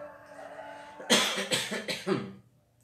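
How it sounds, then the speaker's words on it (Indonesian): A few close, loud coughs in quick succession, each a harsh burst, tapering off into quiet. "Tuh kan jadi batuk."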